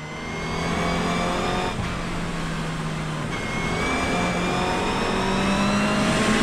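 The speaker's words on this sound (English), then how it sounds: "You hear the wheels are just spinning up. The revs are going, and you're going nowhere." Car engine revving hard as the wheels spin up and lose grip on a wet, puddled track during a race, a loud steady drone with rising pitch and no talk over it.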